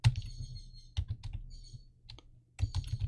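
Fingers type on a computer keyboard while programming a Raspberry Pi, in close, clicky bursts of keystrokes separated by short pauses, with a final quick flurry.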